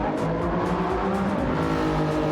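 In the Flatout racing video game at Laguna Seca, a race car's engine drones loudly and steadily with layered harmonic tones while its tyres squeal and scrub as the car is straightened, continuous throughout.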